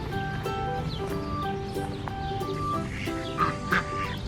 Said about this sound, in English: Let's go say hello to the ducks.